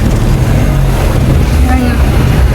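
A loud, steady low engine rumble with wind buffeting the microphone, a motorboat running close by through floodwater.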